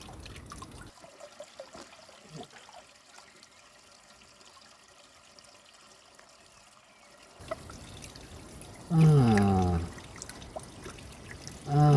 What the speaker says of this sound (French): Je mets mon doigt à l'endroit où l'eau s'échappe.